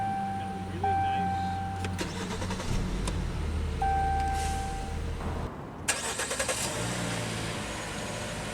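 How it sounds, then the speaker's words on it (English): Chimes ring inside a 2019 Jeep Cherokee Latitude SUV, then the engine cranks and starts, settling into a steady running hum with a few clicks and bumps. "let's go ahead and start the engine"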